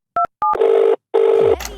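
A phone dialing a call gives two quick pairs of keypad tones, then two longer buzzing ring tones separated by a short gap, loud and close.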